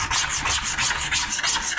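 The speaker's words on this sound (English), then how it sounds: "you'll just work the scraper just kind of back and forth motion across the pow channel" A plastic scraper rubbed back and forth across the pow channel of a Gilson snowboard base, giving a close, continuous rasping scrape with rhythmic strokes and no speech.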